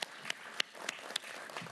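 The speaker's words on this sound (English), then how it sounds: "You can feel free to applaud." Scattered, sparse hand claps from an audience at a religious liberty commission hearing, a few distinct claps spaced out over a quiet room with no talk.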